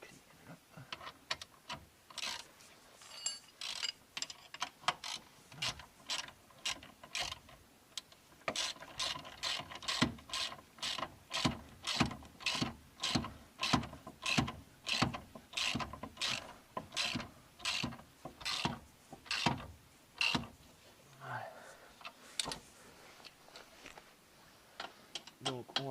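Wrench tightening a nut while fitting a big brake kit, a long run of sharp, evenly spaced ratchet clicks, close and fairly loud, with a short pause and some brief talk near the end.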